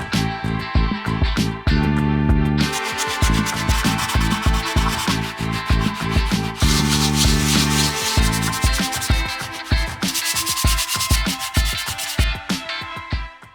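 Wall filler on a model robot is sanded by hand, loud close rasping strokes in a quick steady rhythm with brief pauses between bursts, no speech.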